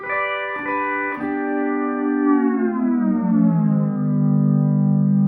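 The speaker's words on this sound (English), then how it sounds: "the sustain and the tone that's coming from this guitar is just incredible" A single sustained pedal steel guitar chord rings on and on, sliding slowly downward in pitch with smooth, singing tone and no talking over it.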